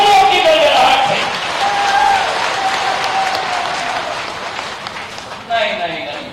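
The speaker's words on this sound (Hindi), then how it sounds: "तालियों की गड़गड़ाहट से ऐसी ताली बजाओ कि शिवराज सिंह जी का दिल का ताला खुल जाए।" Crowd applause rolls through an outdoor BJP political rally in Hatpipliya, Dewas, a loud sustained wash of clapping from many people while someone speaks over it.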